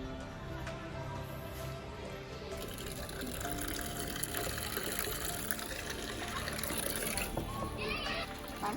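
Water pours steadily onto potted plants at a relative's house, a continuous close gushing splash that runs the whole time with faint background activity.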